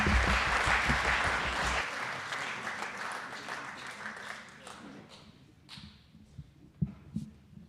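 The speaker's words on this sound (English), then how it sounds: "Another round of applause for Father Mahamadou Naro." Applause from an audience at a university bicentenary event: a dense burst of clapping at first that gradually thins and fades into scattered claps and faint room noise.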